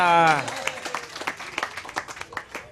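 A live audience at a barangay coffee forum in Muelle Loney, Iloilo City Proper, breaks into short, scattered clapping right after a speaker's voice, the claps popping irregularly for a couple of seconds.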